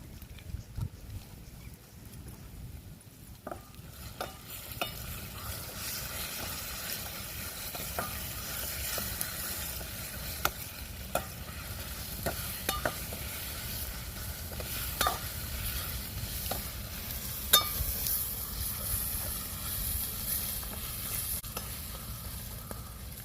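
Ginger garlic paste frying in a pan for a fish curry, a soft continuous sizzle with scattered light stirring clicks, faint and outdoors-sounding, with no talk.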